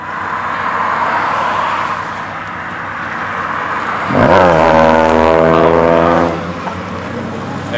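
A loud car engine idles roughly, then revs hard for about two seconds, its pitch climbing and holding, before settling back down. The sound is close and continuous, with no voices.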